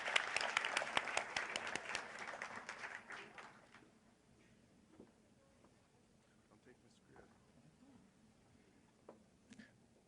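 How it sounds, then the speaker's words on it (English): Applause for a guest at an annual community breakfast, a crowd clapping strongly at first and then tapering off within a few seconds into a quiet room with faint murmurs. "she deserves another round of applause"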